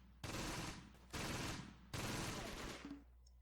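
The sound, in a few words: MG42 machine gun firing in Close Combat video game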